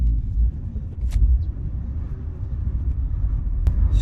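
A Vauxhall Astra H drives down the road, heard from inside as a low, steady rumble of tyres and engine at moderate level, with a couple of faint clicks.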